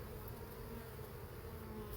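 Honey bees buzzing steadily inside an opened hive with a good clump of bees on top, a dense continuous drone filling the whole moment without talk.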